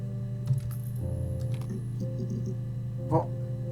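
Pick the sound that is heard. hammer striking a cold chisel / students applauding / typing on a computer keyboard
typing on a computer keyboard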